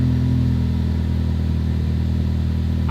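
A Ford Focus ST with a Cobb catback exhaust idling with a deep, steady low drone, close and loud, with a brief rising throttle blip at the very end.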